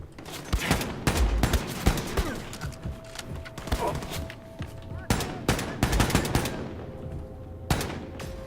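Rapid bursts of scoped-rifle gunfire in the Wolfenstein: The New Colossus video game, a string of loud sharp shots in quick clusters across the clip with brief gaps between bursts.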